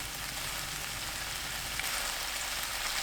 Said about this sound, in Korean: 진간장 3큰술, 기름 2큰술, 물엿 반큰술 넣고 섞은 뒤 센 불로 켭니다. 양념을 끓여주세요.